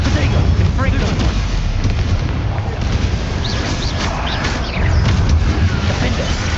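Confringo spell blasts in Hogwarts Legacy combat, heavy booming explosions and rumbling impacts layered in a loud, dense battle mix with a voice shouting over them.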